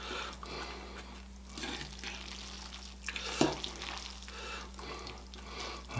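Noodles with chili crisp and peanut sauce being stirred and tossed around a pan, a steady wet scraping and sloshing with soft splashy bursts throughout, close and moderately loud with no talking.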